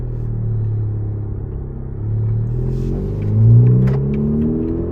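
Honda car fitted with a K-tuner engine, stage 1.5, accelerating on a test drive, its low engine rumble rising and surging in pitch as it pulls, loud and steady with no talking.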